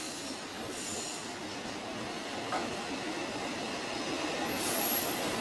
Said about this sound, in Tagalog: Yun nga yung bagon ng train. Dami niyang hila-hila.